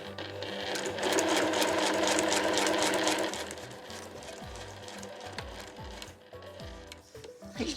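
A sewing machine runs close and steady, stitching along the edge of a Liberty fabric and nylon pochette, its rapid mechanical whir easing off partway through with some lighter ticking after.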